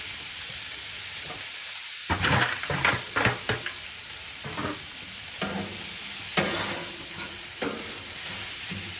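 Vegetables for chicken fried rice fry on an oiled Blackstone griddle, a loud steady sizzle broken by several scraping, stirring strokes of a spatula, with no one talking.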